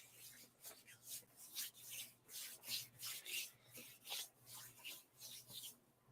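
Hands rub together in a series of soft, dry, rhythmic swishing strokes, faint and close, with a low steady hum underneath and no talking.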